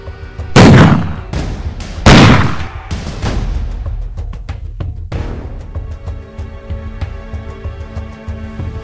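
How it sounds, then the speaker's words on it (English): A Winchester rifle fires in two loud, sharp close gunshots about one and a half seconds apart, each ringing out, followed by further fainter cracks and a long echoing tail. "Doolin spotted the staggering Shadley and without warning fired 2 times from his Winchester."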